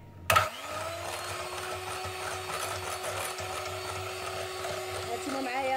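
An electric mixer whips cream for a keto cheesecake, starting with a clunk and then settling into a steady, close whirring motor hum that holds to the end.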